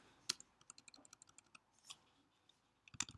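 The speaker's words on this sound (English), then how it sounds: "Now here we're going to type" Keys clicking in a quick irregular run while code is typed into a Ruby on Rails model file, with a few louder key strikes standing out; no one talks over it.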